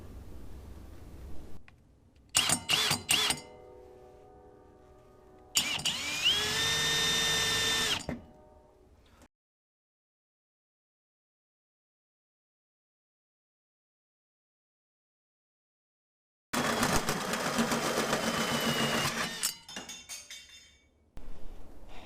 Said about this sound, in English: Nothing left to do but to drill a giant hole in my bed.